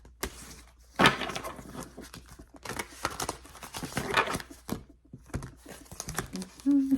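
A tarot card deck being shuffled, with bursts of crisp riffling and flicking card sounds in several spaced runs, close and fairly loud, broken by brief pauses.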